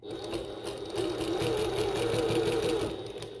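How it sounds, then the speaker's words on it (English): A sewing machine stitching a bucket tote bag runs in a continuous, close mechanical whir with a fast steady needle rhythm, alone and without talk. "pivot all the way round, and then sew back down again"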